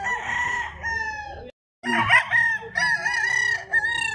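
A rooster crows loudly nearby on a farm in Tagaytay City, pauses briefly, then crows again with clucking hens mixed in.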